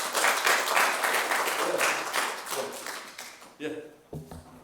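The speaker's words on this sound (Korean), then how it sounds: "큰 박수로 환영드립니다." An audience claps in welcome for a speaker at a gathering: dense, steady applause that fills the first few seconds, then thins into a few scattered claps and a brief voice near the end.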